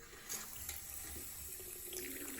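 Water runs steadily from a newly installed bathroom faucet on an old pedestal sink, clearing sediment from the supply lines in a continuous close hiss and splash with no voices.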